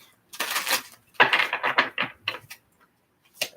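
Cards are shuffled for a tarot love reading in several quick bursts of riffling and sliding with short pauses between them. The sound is close and crisp, with a final brief flick after a gap.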